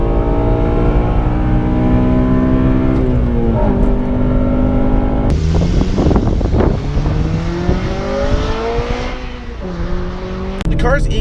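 A 2008 Honda Civic Si with VTEC and helical limited-slip differential accelerates hard through first, second and third gears, engine rising in pitch with each pull and dropping at shifts, loud and close with talk over it.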